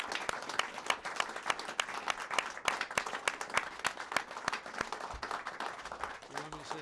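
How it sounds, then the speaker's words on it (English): An audience at a community access television annual meeting applauds a volunteer-of-the-year award winner, a dense, continuous burst of many hands clapping throughout, fairly close and lively, with a brief voice at the end. "Please give a round of applause for Charlie Walsh"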